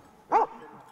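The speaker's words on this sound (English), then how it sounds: "Maremano Abruzzese are guardian dogs that have been used for centuries to keep predators away from livestock." A Maremmano Abruzzese livestock guardian dog gives a single deep, short bark, clear against otherwise quiet surroundings.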